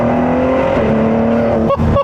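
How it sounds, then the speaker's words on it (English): A 2017 Ford GT's engine roars at full throttle from inside the car, a loud, rising tone climbing steadily and then briefly dipping twice as gears shift near the end. "So I'm gonna floor it here real quick"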